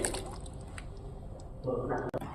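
Cooked lentils are poured into a pot of radish sambar, making a brief wet, squishy plop and splash near the end over a soft kitchen background.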